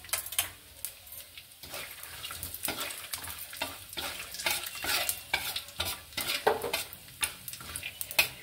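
Peanuts frying in hot oil for a Bengali fig and moong dal curry, a steady close sizzle with frequent scraping stirs and light clinks of a spatula against the pan, without any talk.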